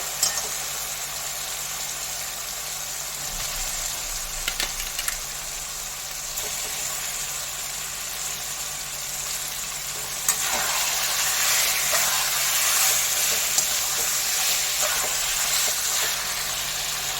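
Chicken for mustard chicken sizzles steadily in a hot pan, a dense continuous frying hiss that grows louder and fuller about two thirds through, with no voices.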